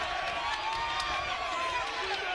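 A wrestling arena crowd at a 2007 TNA pro wrestling event roars in a steady, dense wash of cheering and shouting, with scattered sharp whoops rising above the constant noise.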